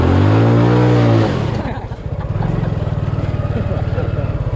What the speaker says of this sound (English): Gonna do a burnout.